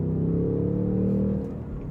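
A Ford Mustang GT's 5.0 Coyote V8 without an active valve exhaust rumbles loudly and close, a deep burbling rev that holds and then drops off after about a second and a half.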